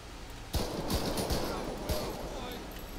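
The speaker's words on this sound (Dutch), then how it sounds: "Meldkamer, schoten gelost" Gunfire in the video game GTA 5 during a police patrol: a few sharp, loud shots crack out in an irregular burst after a brief quiet start, with some voices in the background.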